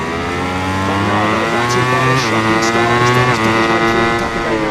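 A Suzuki MotoGP racing motorcycle at the 2022 Qatar Grand Prix roars past with a loud, high-pitched engine whine, shifting pitch as it passes amid other bikes.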